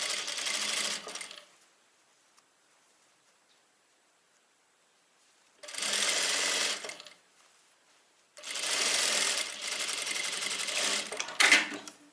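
A sewing machine runs in three bursts while stitching a trouser waistband seam, separated by quiet pauses, with a small click near the end; no one speaks.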